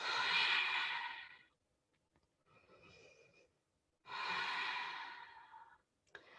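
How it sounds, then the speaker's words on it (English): Slow, deep breaths during a yoga lunge: long audible exhales and inhales close to the mic, two strong breaths with a softer one between. "Breathe deep right here."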